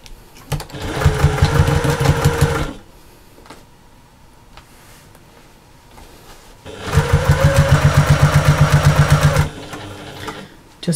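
A sewing machine stitches straight across a slouchy bag seam in two loud, steady bursts of rapid mechanical stitching, separated by a quieter pause.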